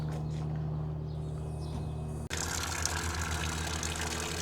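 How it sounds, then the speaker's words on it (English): Water flushes through a CLM 4 water filter system, first as a low steady flow, then abruptly opening into a louder, broad rushing gush that continues evenly. "Turn the water on and flush the system."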